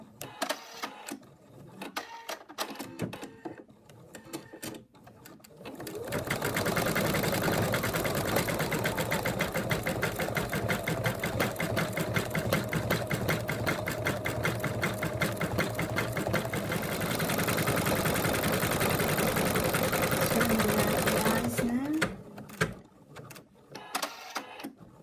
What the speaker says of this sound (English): The machine is finished embroidering the white of the eyes,